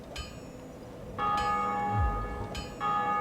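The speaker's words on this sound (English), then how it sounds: "If you hear that bell ringing while you're playing, someone's rung the first bell." In the game Dark Souls, a bell tolls three times at slow, even intervals, each strike ringing bright and metallic before decaying over a low ambient rumble.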